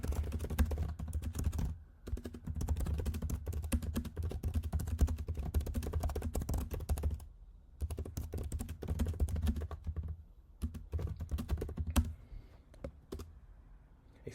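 Continuous fast typing on a computer keyboard while entering a prompt into Claude Code, dense close key clatter with a few brief pauses, ending in sparser keystrokes.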